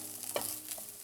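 A spoon stirs beetroot coconut fry with its coconut and garlic mixture in a pan, giving one brief scrape over a faint sizzle.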